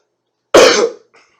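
One short harsh cough, loud and close, followed by a faint trailing breath, standing alone against silence.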